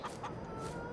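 Hens cluck on a farm, a few short, nearby calls over a steady barnyard background.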